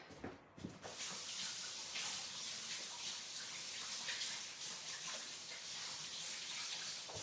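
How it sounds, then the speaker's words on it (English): Hands are washed under a running kitchen tap, a steady broad splash of water that stays even for several seconds after a brief softer start, close and alone with no talking. "Wash my hands real quick"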